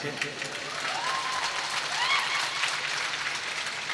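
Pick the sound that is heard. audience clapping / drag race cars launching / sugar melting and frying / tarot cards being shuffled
audience clapping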